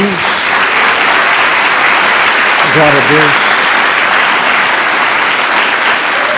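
A church congregation claps together loudly and steadily throughout, a dense wash of hands under a preacher's voice calling out over the top.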